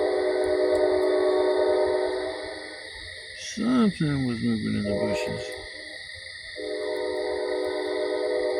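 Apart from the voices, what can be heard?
train passing by at night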